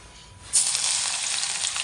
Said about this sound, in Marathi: तेलामध्ये आता लसूण टाकत आहोत